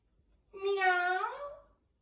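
A cat gives one drawn-out meow, clear and close, rising then falling over about a second, in otherwise quiet surroundings.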